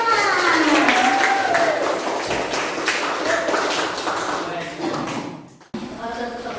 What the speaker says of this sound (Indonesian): Tepuk tangan dulu untuk kelompok 5